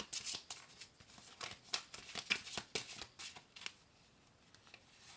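Tarot cards being shuffled by hand in a quiet room, a run of crisp riffling slaps and shuffles in irregular bursts, close and fairly soft, easing off toward the end.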